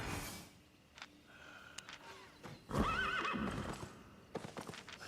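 A horse in a video game whinnies with a rising and falling call near the middle, along with clip-clop hoofbeats and faint ambient noise before and after.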